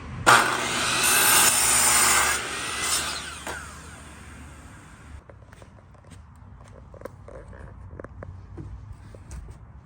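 A power saw cuts a 45-degree angle in a frame piece for a homemade volleyball rebounder, one loud rough burst lasting about two seconds before winding down, followed by scattered clatter and handling noises.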